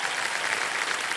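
Studio audience on a television quiz show applauding, a dense, steady burst of clapping from many hands.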